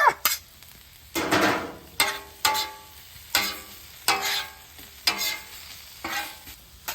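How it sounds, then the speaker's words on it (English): Butter and onions fry on a griddle, with a steady sizzle broken by a series of scraping, clattering spatula strokes that recur about every second, close and alone. "My onions seem a little dry. I'm just gonna throw some butter in there."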